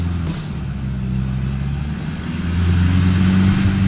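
A car engine drones loud and close while driving in the video game PUBG (Battlegrounds), holding a steady rumble that swells louder in the last second or so.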